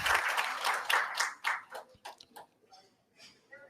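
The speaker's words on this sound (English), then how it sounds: "Let's have a round of applause," An audience at an academic seminar gives a round of applause, dense clapping at first that thins into scattered claps and fades to near silence within a few seconds.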